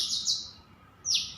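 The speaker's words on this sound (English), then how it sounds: "in the backdrop of the chirping of the birds. They are relentlessly chirping from every tree." Birds chirp in the trees outdoors with two quick, high, sharp tweets about a second apart, faint against a soft, quiet background.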